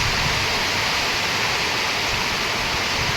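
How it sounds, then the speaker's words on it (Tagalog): Steady, dense wash of heavy rain pouring down, a continuous broadband hiss with no pauses, loud and close. "biglang buhos yung ulan"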